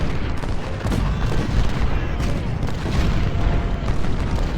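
Civil War artillery cannons fire in a real-time battle strategy game: dense, loud, rolling booms that blend into a continuous rumble of gunfire throughout.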